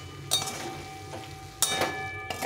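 Mustard greens mixed with a little flour paste are stirred in a hot pan, giving soft sizzling with a few sharp scraping bursts of the spoon against the pan, close by and with no voices.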